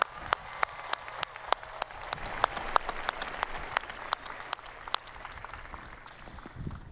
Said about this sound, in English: Let's give your friends and family, graduates, all a round of applause for everything they've done